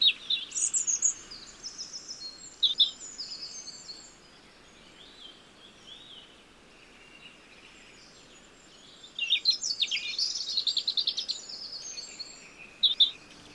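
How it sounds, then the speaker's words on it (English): A robin sings in bursts of bright, high, warbling phrases near the start and again toward the end, separated by a quieter stretch of faint background chirping; no one talks. "let's listen out to hear what a robin sounds like"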